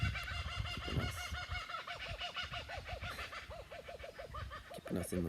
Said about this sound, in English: And there's a kookaburra